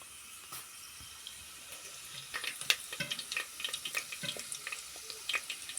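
Lentils and mustard seeds crackle and sizzle in hot oil as a vegetable pulao tempering begins, a steady frying hiss with sharp little pops that grow denser and louder after the first couple of seconds, no talk.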